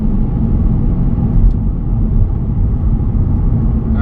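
Steady low road rumble inside a 2019 Lexus IS300 F-Sport cruising on the road, continuous engine and tire drone at constant level with no talking.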